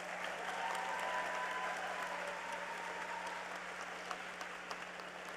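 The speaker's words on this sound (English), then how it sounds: "So let's give them another big round of applause." Audience applause fills a school board meeting: sustained, dense clapping from a crowd that continues evenly throughout and is moderately loud, with no voices over it.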